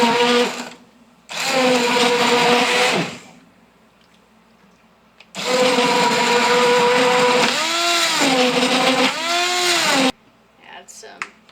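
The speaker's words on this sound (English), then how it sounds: "start the immersion blender" An immersion blender whirs loudly in potato soup in two long bursts separated by a pause, its pitch bending up and down as it works through the mixture, with a voice speaking in the gaps.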